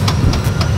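Airbus A320 jet engines spooling up to takeoff thrust, a brief loud low rumble with pulsing whooshes of rising noise.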